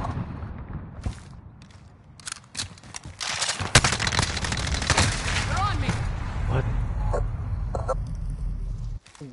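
Gunfire in Call of Duty Modern Warfare multiplayer Domination, with sharp shots and scattered bursts of varying loudness, some near and some distant, under a busy game soundscape.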